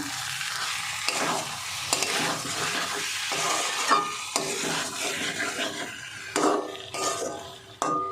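Spoon stirring spice mix through fish head and Gobindobhog rice in a pot, with repeated scraping strokes, light sizzling and occasional clinks against the metal, close and fairly loud with no talk.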